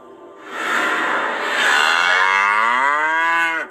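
A red heifer mooing in Shiloh, one long, loud, close bellow of about three seconds that slides slowly down in pitch before stopping abruptly.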